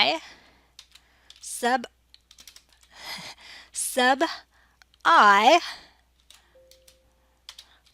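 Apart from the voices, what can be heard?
typing on a computer keyboard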